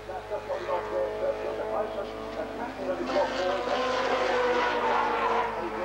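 A 1989 Honda CRX race car at Silverstone shifts up a gear as it passes the pits, its engine note rising and droning at mid distance beneath a commentator's voice.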